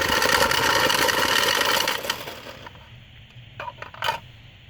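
Automatic card shuffler working through six blackjack decks, a steady mechanical whir and riffling rattle for about two seconds, then quieter clicks and a couple of sharp clacks as it finishes.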